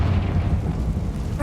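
A Confringo blasting spell explodes inside a closed mine in the video game Hogwarts Legacy, a loud, sustained low rumbling boom that rolls through the whole moment with no pause before a brief brighter crackle at the end.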